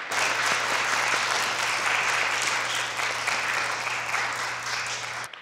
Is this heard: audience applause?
yes